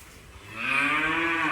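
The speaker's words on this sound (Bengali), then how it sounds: "এই যে বিশাল গরুর শেড দেখতে পাচ্ছেন" Inside a large cattle shed holding calves, a single cow gives a close, loud moo that swells and holds.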